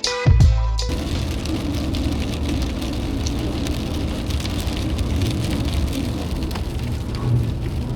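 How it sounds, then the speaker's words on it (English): After a brief musical snippet, heavy rain patters and hisses steadily on a surface nearby, continuous and fairly loud. "We have a rainstorm."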